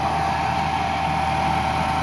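A farm tractor engine runs at a steady idle before plowing a field for maize sowing, a continuous low mechanical drone with no talking.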